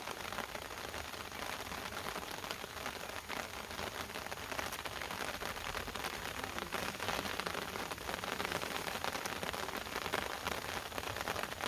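Rain falls steadily during an outdoor meal, making a soft, continuous patter on surfaces. The sound stays even and fairly faint throughout, with no one speaking.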